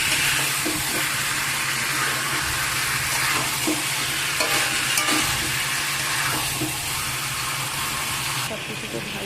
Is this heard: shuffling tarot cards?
no